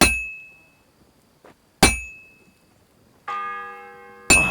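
Struck bells ring in a medieval village in Kingdom Come: Deliverance 2, with sharp metallic clangs that each ring out and decay. A sustained, many-toned bell strike comes in later, loud and close with no talking.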